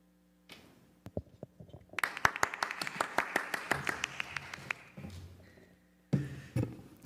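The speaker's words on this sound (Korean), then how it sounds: "안에 스태프들은 박수를 크게 힘있게 쳐주시고" Church staff clap loudly and energetically as the pastor steps out at a youth retreat evening service, a dense run of sharp hand claps that builds and then fades, followed by a short burst of noise at the end.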